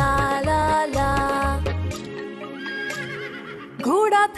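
A horse neighs in a loud, quavering whinny with clip-clop hooves, set in a Hindi children's nursery rhyme with music, ending in another rising whinny.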